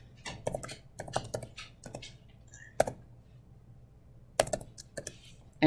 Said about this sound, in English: type in whatever password you created for it